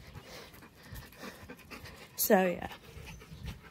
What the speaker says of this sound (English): She's like panting because she's just so excited.